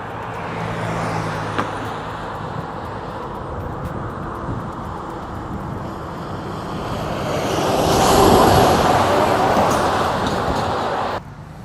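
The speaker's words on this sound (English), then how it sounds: "This is kind of rush hour traffic." Rush hour road traffic roars steadily from close by, with a continuous engine and tire wash that swells louder toward the end as a vehicle passes.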